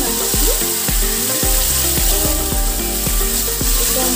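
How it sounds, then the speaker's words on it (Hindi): Almond-based gravy roasting in a kadai for butter paneer masala, with a loud continuous sizzle and regular scraping strokes of a spoon about twice a second, close up. "इसको हम भूनते हैं,"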